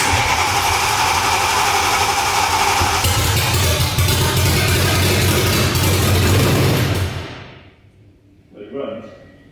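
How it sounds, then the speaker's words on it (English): A BMW S65 V8 engine transplanted into an E30 M3 track car roars loudly and steadily up close, then cuts off abruptly, leaving near silence before a short faint noise. "Fire up then. Let's go."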